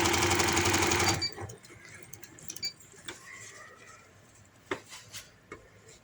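A sewing machine stitches umbrella plazo fabric in a loud rapid burst for about a second, then stops, leaving faint clicks, taps and fabric handling sounds.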